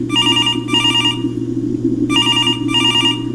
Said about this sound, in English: I was awakened suddenly at around 3 a.m. by my phone ringing